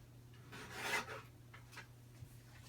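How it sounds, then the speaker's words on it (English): Trimming a small scrap of paper for a handmade card gives soft, close rasping cuts, with one fuller stroke followed by a few faint ones, and no talking. "I'm going to trim this piece just a little"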